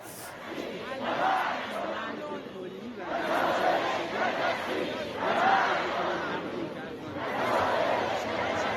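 Crowd of protesters in the streets of Tehran chanting slogans against the US and Israel after Ali Larijani's death, many voices in loud rhythmic swells that rise and fall roughly every two seconds, continuous and massed.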